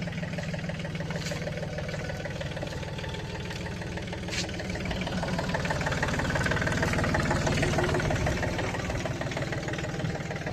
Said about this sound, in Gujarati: અમારું ટ્રેક્ટર જઈ રહ્યું છે